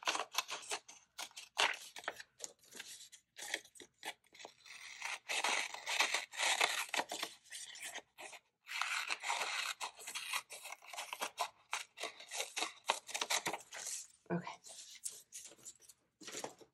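Scissors snip through paper to cut out a printed budget tracker, giving a steady run of close, crisp cuts and rustling paper, with brief pauses between strokes and no talk.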